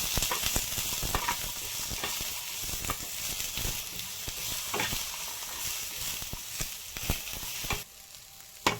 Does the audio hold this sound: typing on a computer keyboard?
no